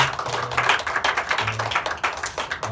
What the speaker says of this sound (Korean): 우리 한번 축복의 박수 한번 하겠습니다